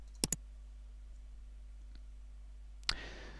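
Computer mouse clicks in a quiet room: a quick pair of sharp clicks near the start, a faint tick midway, then one more click followed by a brief soft noise burst near the end.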